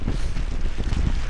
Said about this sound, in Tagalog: Ganyan kalakas ang hangin.